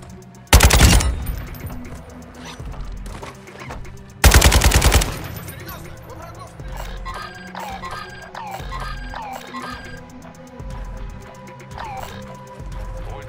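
Warzone 2 DMZ gunfire: two loud, sustained bursts of automatic fire up close, followed by quieter scattered in-game sounds and faint distant shots.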